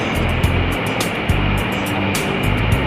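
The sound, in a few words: waterfall at Hidden Valley Springs Resort, Laguna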